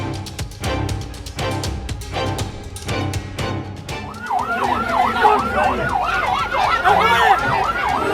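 An ambulance carrying an emergency patient through a carnival route in Pinrang, its wailing siren rising in over loud carnival music with pounding beats, the siren cycling rapidly and growing prominent in the second half.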